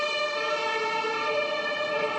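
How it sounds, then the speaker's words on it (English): An emergency vehicle siren wails steadily and loudly on a Berlin street, a sustained tonal howl that fills the whole moment with no voices over it. "Sorry, there's a siren."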